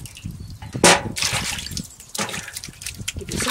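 Water drains from a garden vegetable washing station down a draining board, with trickling and splashing, one brief louder gush and intermittent dribbles close by.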